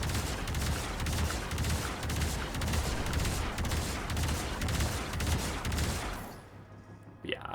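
Railjack ship gun in Warframe, firing in a dense, loud continuous barrage of shots for about six seconds before cutting off, leaving quieter ambient game sound with a few faint trailing noises.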